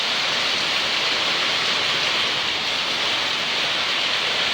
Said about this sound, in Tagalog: Malakas yung hangin, saka malakas yung ulan.